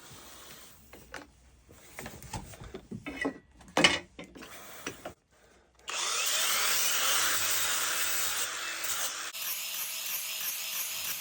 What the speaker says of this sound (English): it's a lot easier to go over this part first with the grinder, getting all these like little imperfections off, getting it nice and flat